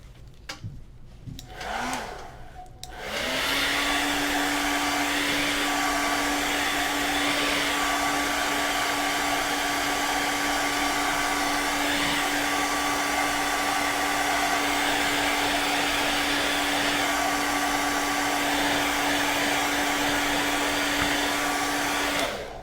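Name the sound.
blow dryer drying paint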